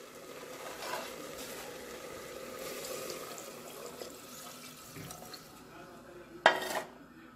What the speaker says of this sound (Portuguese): Aí agora eu vou colocar a água e colocar para cozinhar.